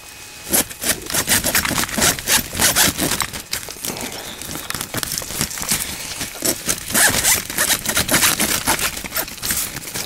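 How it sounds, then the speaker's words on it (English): Repeated rasping pulls on a frozen zipper, short scratchy strokes in an uneven rhythm, close and fairly loud, with no talking, outdoors in the cold near Lake Superior. "My zipper's frozen shut."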